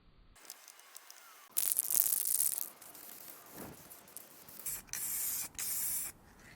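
Short bursts of aerosol spray paint hissing onto a Skoda Fabia car bonnet during restoration, a long blast followed by several shorter sprays, close and fairly loud with quiet gaps between.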